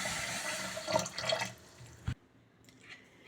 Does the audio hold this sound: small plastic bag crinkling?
no